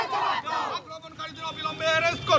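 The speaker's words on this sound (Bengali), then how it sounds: "সেখানে রাস্তায় বসে বিক্ষোভ, টায়ার জ্বালিয়ে পথ অবরোধ" Protesters at a road blockade in Harishchandrapur, Malda, where tyres are being burned, shout and chant together in a loud, rough crowd din with a raised voice cutting through near the end.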